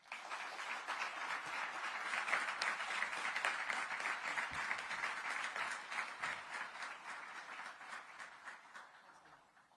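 Audience applause welcoming European Parliament President Roberta Metsola at Johns Hopkins University, a steady, dense crowd clapping that swells and holds loudly for about ten seconds before slowly thinning.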